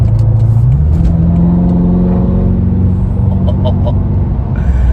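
A 560 hp 2014 BMW M5 engine revs hard and accelerates up through the gears, loud and close with a deep rumbling growl.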